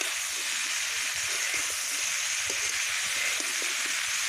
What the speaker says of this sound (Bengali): সুন্দর করে তেলের মধ্যে আমি এখন কষাতে থাকবো বা একটু ভাজা ভাজা করে নেব